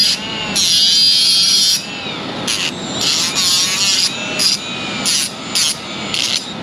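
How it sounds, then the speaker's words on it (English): Small Milwaukee angle grinder working on the bed brace of a 1960–66 Chevy C10 pickup, giving a loud close whining grind in repeated bursts and short pauses, with no talk. "This little Milwaukee angle grinder is good for light load situations like this."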